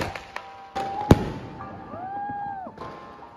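Diwali firecrackers burst outdoors near an apartment, with several sharp cracks and one loud bang, then a whistling rocket rising and falling before another pop, with no talk.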